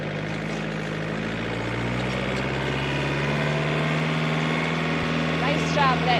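Farm tractor engine running steadily at a low idling rumble, loud and close, with a voice talking over it.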